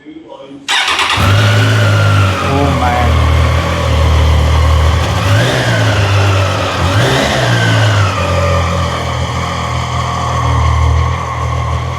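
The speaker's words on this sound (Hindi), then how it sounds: "ट्रायम्फ का एग्जॉस्ट नोट तो चलो सुनते लेट्स हियर द एग्जॉस्ट" A Triumph Daytona 660 motorcycle fires up from a cold start, then its exhaust settles into a loud idle with several sharp throttle blips. A man's brief exclamation sounds over the engine.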